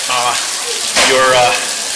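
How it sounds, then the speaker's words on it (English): Rain falling steadily in the residential compound of the Forbidden City in Beijing, a dense close hiss with a voice talking briefly over it. "Mostly it's raining"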